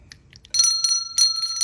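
A tired-sounding small bell rings in a few quick, close strikes after a couple of faint taps, then sounds again, bright and metallic with no voices.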